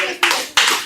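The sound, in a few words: congregation clapping for themselves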